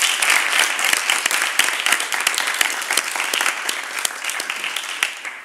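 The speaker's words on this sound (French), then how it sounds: "on peut applaudir pour lui" Studio audience applause for a contestant on a French television quiz show, a dense, steady wash of many hands clapping at close range, with no talk over it.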